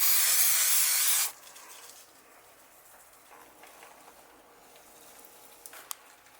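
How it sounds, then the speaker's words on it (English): A loud, steady hiss of cooking spray from an aerosol can for about a second, then quiet room noise with a couple of faint clicks. "Grab yourself some cooking spray."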